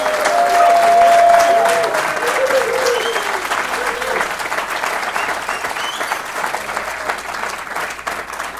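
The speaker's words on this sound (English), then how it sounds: "Big round of applause for Dar." Sustained applause from a crowd at a Rotary citizen of the year award ceremony, dense and fairly loud, tapering slightly over time, with faint voices and murmur underneath.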